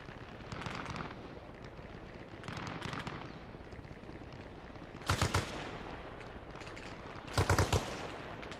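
Bursts of automatic gunfire in the military shooter Arma Reforger, two dense rattling volleys around a quieter sustained background of firing, moderately distant and without speech.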